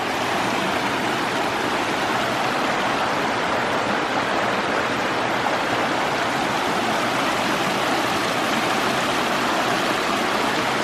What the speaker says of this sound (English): The sound of the water is so peaceful, but look how orange this is.